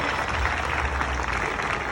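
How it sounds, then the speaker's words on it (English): An audience at a Six Flags Discovery Kingdom animal show on the Fourth of July claps as a dense, steady wash, loud and continuous over the brief moment. "Everyone give them a big round of applause"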